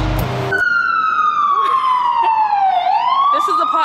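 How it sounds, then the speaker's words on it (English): An emergency vehicle siren passes through a New York City street, a single loud wail sliding slowly downward then rising again, heard from indoors over a low city hum. "this is New York, so you're bound to hear sirens, honestly"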